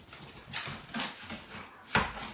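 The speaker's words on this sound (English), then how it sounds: "Why do my dogs do this when they know you guys are talking?" Dogs making noise indoors, a few scrabbling, whimpery bursts with one sharper yelp-like sound near the end, moderately loud and close with no talking.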